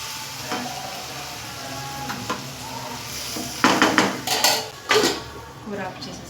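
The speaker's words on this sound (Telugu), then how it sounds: "ఈ లోపల కూర ఎంత చూసారా, కూర కూడా అయిపోయిందండి, బాగా ఫ్రై అయిపోయింది." A curry fries in a pan with a soft, steady sizzle. A utensil stirs and scrapes against the pan, with several louder clanks near the end.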